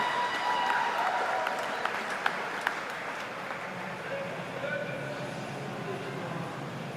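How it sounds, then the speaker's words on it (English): Crowd applause at a national open swimming championship poolside for the winner of the men's 200 metres freestyle, steady and sustained across the whole stretch with scattered sharper claps and cheers, heard at moderate distance. "give him a big round of applause"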